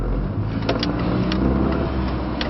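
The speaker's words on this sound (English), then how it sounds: "the traffic got heavy here" Heavy road traffic rolls past at close range, a loud, continuous roar of engines and tyres with no break, and a few faint clicks riding on top.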